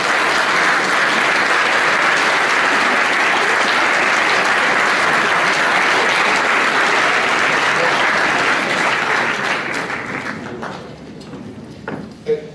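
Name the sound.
students applauding their parents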